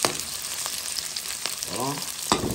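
Shrimp sautéing in a hot pan with onions, a steady sizzle and frying crackle running throughout, with brief stirring scrapes and a louder burst near the end.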